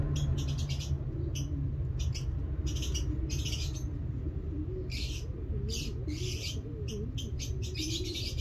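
Two young pigeons in a nest box peep in rapid high-pitched bursts over a low, steady cooing murmur, close by.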